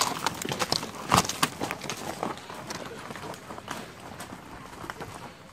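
Pack horses' hooves clatter quickly and unevenly across the ground at a trot in Havasupai country, fairly close, with voices talking over the hoofbeats.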